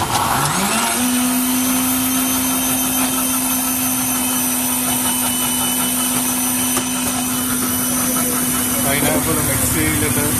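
Electric mixer grinding pineapple: a loud, steady motor whine that rises as it starts up, then holds a constant pitch with churning noise throughout, close by, with no talk over it.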